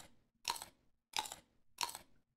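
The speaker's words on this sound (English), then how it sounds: "Eggs are not supposed to be crunchy." A Stardew Valley character eating a year-old egg, three evenly spaced loud crunchy bites close up, each a sharp crackling burst with short silences between.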